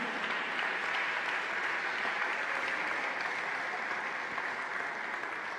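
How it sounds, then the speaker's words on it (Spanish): Congregation applause in a Spanish-language church service, a steady, even wash of clapping sustained for over five seconds at moderate loudness, with no voices rising above it. "Dele un fuerte aplauso al Señor"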